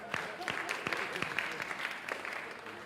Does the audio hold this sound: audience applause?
yes